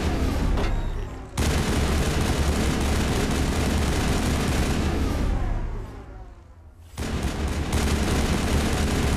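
Sustained loud weapon fire in Mass Effect, dense rapid bursts continuing for several seconds, briefly cutting out, then dropping to a quieter stretch before the heavy firing resumes.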